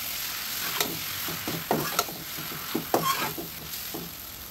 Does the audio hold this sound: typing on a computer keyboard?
no